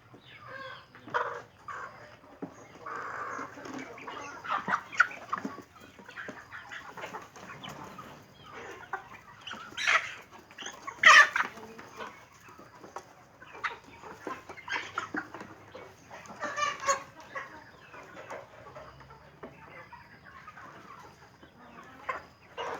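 Isan pearl laying hens cluck and squawk intermittently in a farmyard, with occasional louder calls standing out against steady background rustling.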